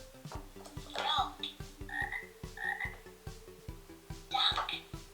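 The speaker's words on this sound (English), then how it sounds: "Frog." A Fisher Price Laugh & Learn toy book plays a frog croak: a repeated electronic ribbiting over a steady rhythmic ticking backing, moderately quiet and close.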